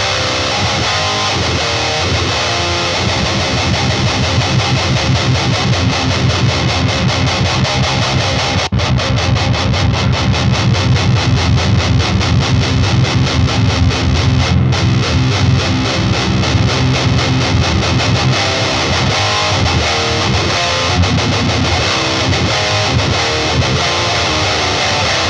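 Electric guitar played through a Peavey Vypyr amp on its Krankenstein high-gain distortion model, producing thick, saturated riffing that runs loud and continuous for the whole stretch with no talking.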